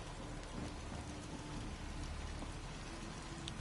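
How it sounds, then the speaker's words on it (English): Steady rain falls in the Fallout 4 game world, a constant faint hiss of drops with a low rumble underneath, continuing evenly throughout. "Hope this rain lets up soon."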